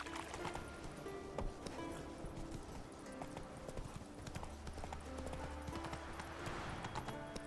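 Geralt's horse Roach galloping in The Witcher 3 video game: steady rhythmic hoofbeats run throughout at a quiet level, under a low game soundscape with faint voices.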